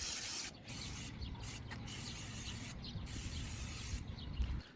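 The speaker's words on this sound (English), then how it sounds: "So spraying the inside of the grill also" Close, loud hissing sprays of oil from an aerosol can inside a charcoal grill, in several bursts separated by short pauses, with no talking.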